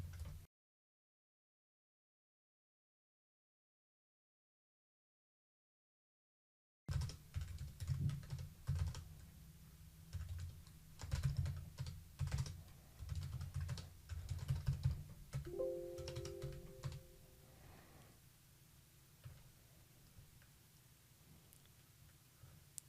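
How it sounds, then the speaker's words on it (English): Bursts of rapid typing on a computer keyboard, with clustered clicks and short pauses after an opening stretch of silence. The keys sound close, with quiet room noise behind them. "then me typing it and actually doing it on the right"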